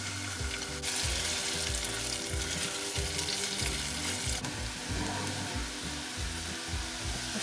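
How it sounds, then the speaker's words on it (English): Onions frying in hot oil until crispy, for a Myanmar pomelo and shrimp salad, giving a loud, dense, continuous sizzle and crackle close up that holds steady throughout. "So I'm gonna drop these onions in the oil and let it cook until they're crispy."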